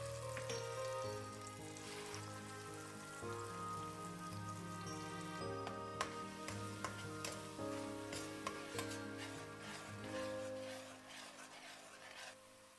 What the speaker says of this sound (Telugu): గ్రైండ్ చేసుకున్న మసాలా పేస్ట్ వేసి పచ్చివాసన పోయే వరకు కలుపుతూ